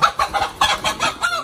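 A chicken clucks in quick, repeated bursts, close by, with a few short calls in a row.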